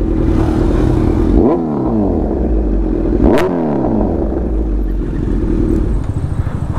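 A Kawasaki Z900 with a full titanium Arrow exhaust roars loudly up close while riding, the engine note sweeping up and dropping with quick gear changes.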